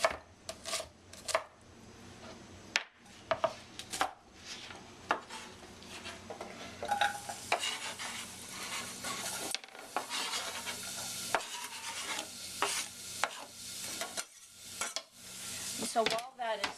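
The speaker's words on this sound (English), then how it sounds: "we're going to add the shallots to the butter and let them soften" Shallots softening in butter in a pan, a soft sizzle running beneath frequent clinks and knocks of utensils and cookware, close by in a kitchen.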